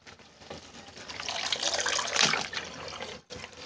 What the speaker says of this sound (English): So now you're gonna wanna drain the water.